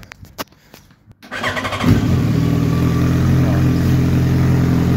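A few clicks come first, then a Yamaha FZ1 motorcycle engine cranks and fires up close by, settling into a loud, steady idle.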